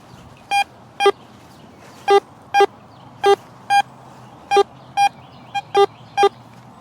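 A Vista X metal detector responds over a brass clock gear buried 8 inches deep in a mineral test bed, giving a series of about eleven short, sharp electronic beeps in an uneven rhythm, loud and clear over faint background noise.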